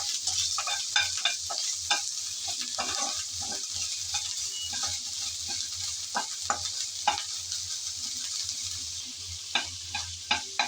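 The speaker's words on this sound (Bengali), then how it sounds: "চিংড়িগুলো দিয়ে আবারও নেড়ে চেড়ে ভালোভাবে ভেজে নিতে হবে।" Shrimp frying in a pan for a bitter gourd dish, a steady bright sizzle with repeated scraping knocks of a spatula stirring throughout, close and fairly loud, no voices.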